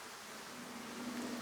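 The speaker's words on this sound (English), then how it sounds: "a lot of bees coming and going" Honeybees buzzing at a heavily stored hive's entrance during a March inspection, a steady soft drone with a faint sustained hum rising slightly toward the end, with no talking.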